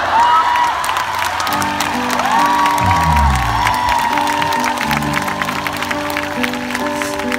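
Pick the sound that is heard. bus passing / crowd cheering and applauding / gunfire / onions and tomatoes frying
crowd cheering and applauding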